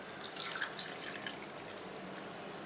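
Water is poured into a pot for prawn biryani in a soft, continuous trickle with light splashes and drips, fairly quiet and with no talk.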